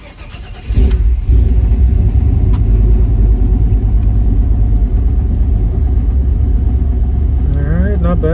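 OBS Chevy truck engine cranks and fires after a short quiet moment, then settles into a loud, steady, rumbling idle close by, with a voice briefly heard near the end.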